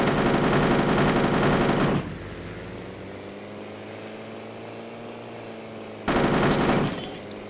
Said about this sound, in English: Unfortunately, I am still getting shot at.